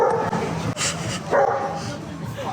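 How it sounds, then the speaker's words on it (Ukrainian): A dog barks and yips a few times outdoors during a trip around Italy, heard under people chatting close by. "Собака була."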